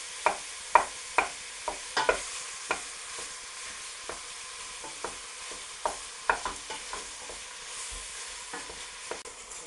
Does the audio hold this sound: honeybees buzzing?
no